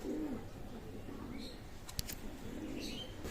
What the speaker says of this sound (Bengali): এখানে এক জোড়া রামপুরি কবুতর আছে মাশাল্লাহ